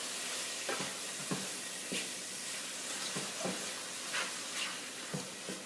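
Browned ground meat seasoned with salt and pepper, stirred in a hot pan for a stew: a steady hiss of frying with regular soft scraping strokes about every half second, near and even, no speech.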